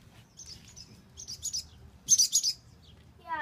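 Small baby bird stuck by its foot gives high, thin chirps in short bursts, a few closely spaced peeps clustered together, heard fairly near over a low rumbling background.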